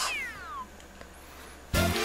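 A cat meow from the cat suit in Super Mario 3D World, a short descending synthesized mew heard clearly at the start, followed later by a burst of bright game sound effects.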